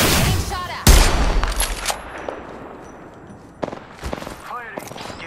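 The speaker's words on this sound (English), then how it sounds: "Getting shot at." Gunfire in Apex Legends, a sharp loud shot followed by a quick burst of rapid rounds, then quieter stretches with further shots and metallic pings near the end.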